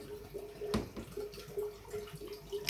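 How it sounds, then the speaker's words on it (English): Soft trickling and dripping as water pours from two tubs into a divided betta fish tank, with low splashes and a faint tonal hum running underneath; a brief louder splash comes early. "I've got my 2 tubs up here feeding water in here and in here."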